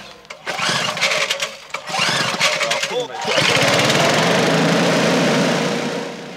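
A Briggs & Stratton 3.5 horsepower engine spinning a plastic hovercraft fan blade, starting with uneven sputters and bursts, then settling into a loud, steady buzzing drone that fades slightly at the end.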